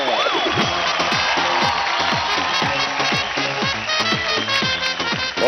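Studio audience at a Dance India Dance televised dance competition bursts into loud, sustained applause and cheering, with dense clapping, excited whoops and shouts riding over upbeat music playing throughout.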